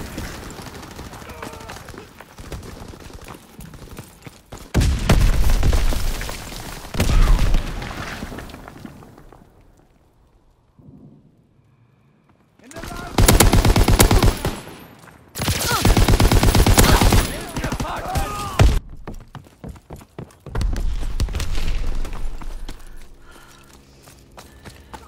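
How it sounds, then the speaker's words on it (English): Fighter plane strafing run in Call of Duty: WWII team deathmatch on the Aachen map, with loud bursts of rapid gunfire and impacts in several waves, separated by quieter gaps of distant battle noise. "Fighter pilot inbound, strafing the target."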